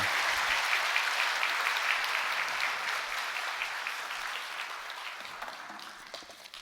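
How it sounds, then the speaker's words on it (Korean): Sustained applause from a church congregation for the drama team after a Sunday service skit, dense and steady, gradually tapering off toward the end with no talking over it. "우리 수고하신 드라마 팀을 위해서 격려의 박수 주시기 바랍니다"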